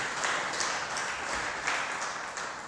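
A congregation at a church celebration service claps in a steady, dense wash of applause that continues throughout the clip, with no voices standing out above it.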